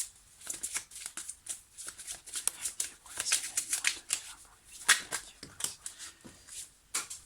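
Tarot cards are shuffled close up in a quiet room: repeated short, crisp riffling bursts with brief pauses between them, and no voices.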